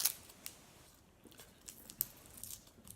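A sticky wrapper is peeled off a strawberry-lemon candy in short crinkly tears and crackles, quiet and close, with sharp bursts at the start and scattered softer rustles after.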